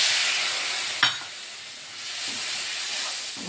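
Water splashes onto powdered red chili spice frying in a pan, giving a sharp burst of sizzle and steam hiss that settles into a softer, steady sizzle with a couple of stirring scrapes.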